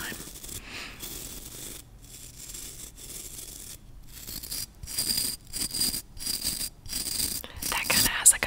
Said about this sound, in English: That kind of has like a pumice stone kind of sound to it